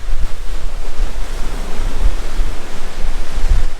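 Waves wash onto a lake beach in Gogebic County, Michigan, a loud continuous rushing surf with low swells and wind noise, no voices.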